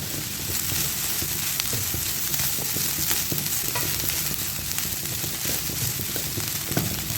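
Potato stuffing with turmeric, green chillies and spices being stirred in a frying pan, with steady close sizzling and frying and repeated scraping strokes of a spoon throughout.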